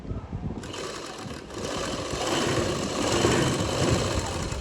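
A sewing machine stitches a salwar side seam with a fine stitch, its motor humming and needle chattering steadily and growing a bit louder after a brief start.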